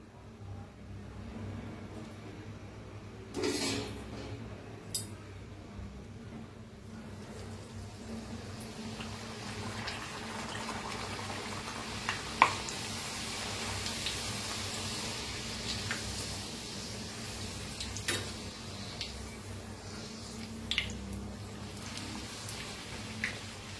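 Puris made from potato dough frying in hot oil, a continuous bubbling sizzle that holds steady for the whole stretch, with occasional sharper pops and crackles and no talking.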